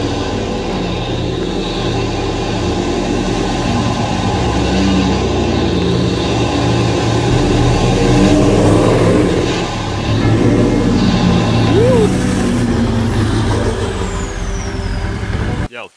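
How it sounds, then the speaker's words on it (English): A Toyota LandCruiser 4x4 stuck by a rising creek revs hard, its engine droning loud and steady while the tyres spin in thick mud, with the pitch surging and easing as it fights for grip. "It definitely fires the mud out of those tyres and gets you a little bit of grip"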